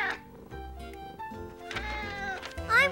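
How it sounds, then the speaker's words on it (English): A cartoon cat meows several times, drawn-out and tonal, fairly close and clear, with a higher, wavering cry at the end. "This is a picture of a cat."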